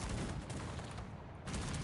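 Dense, continuous gunfire in the strategy game Cossacks 3 crackles and pops throughout, a sustained volley of rapid shots with a brief dip before resuming loudly.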